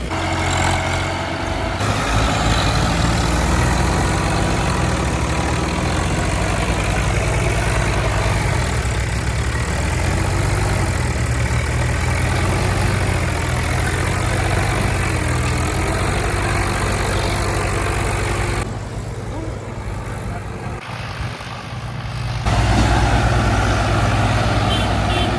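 Several Swaraj tractors, including a Swaraj 724 and Swaraj 744 XT alongside a Powertrac Euro 47, idle together on a farm during maize chaff cutting, a steady low diesel rumble that dips briefly near the end and swells again.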